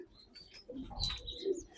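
Pigeons in a pigeon house give soft, low cooing calls with a few brief chirps, quiet and intermittent, with no voices.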